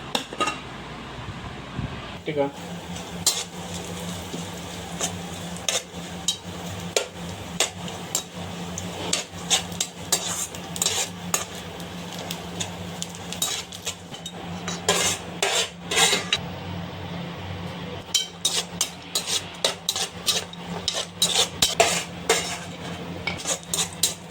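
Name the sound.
frying and stirring chana dal paste in ghee in a pan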